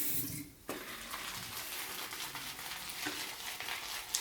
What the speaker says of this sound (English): It's dry, we're gonna add a little bit of water.